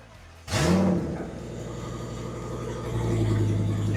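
A Ford F350 truck with a V10 engine and no exhaust fitted cranks and catches with a sharp burst, then settles into a loud, steady rough idle that swells slightly near the end.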